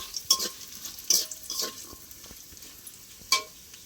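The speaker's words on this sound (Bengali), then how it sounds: "কাজু কিশমিশটা একটু ভালো করে তেলের উপর নেড়ে নেব।" Cashews and raisins being stirred in hot oil with bay leaves in a pan, giving soft sizzling under a few sharp scraping clinks of a spoon against the pan, with no talking.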